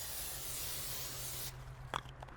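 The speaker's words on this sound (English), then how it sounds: "I'm going to give it that spray down on the inside." Cooking spray hissing from an aerosol can into the inside of a Dutch oven, a steady broadband spray lasting about a second and a half, followed by a few faint clanks, all close up and alone without talk.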